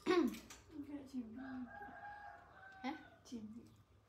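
A rooster crows nearby in two drawn-out calls, loud at the start and then trailing off, with faint background talk around it.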